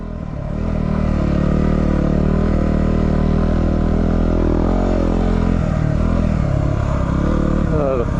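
A BMW R1100GS motorcycle engine churns steadily through deep sand, a loud, continuous drone with rising and falling revs, heard close from on board.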